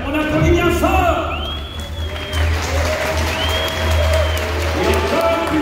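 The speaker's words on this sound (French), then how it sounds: "Allez, pour l'équipe romaine, on applaudit bien fort." An audience at a Gallic-versus-Roman show applauds for the Roman team in sustained, dense clapping, while tonal sounds and a voice carry over it.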